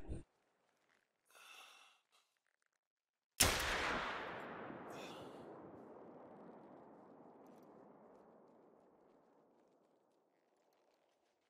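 A single sharp gunshot cracks out and its echo rolls away slowly over several seconds in the Taiga reserve of the hunting video game theHunter: Call of the Wild, with near silence before and after.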